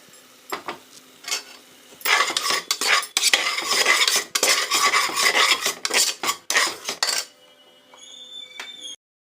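A spoon scrapes and stirs tomato paste with sautéed onions inside a cooker, giving a series of rough, rasping strokes close up that stop near the end, followed by a faint clink.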